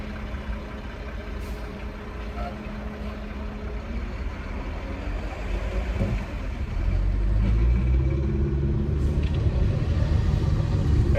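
Cabin rumble of a car on the move, a steady low road and engine drone heard from inside that grows slightly louder and heavier toward the end, with no voices.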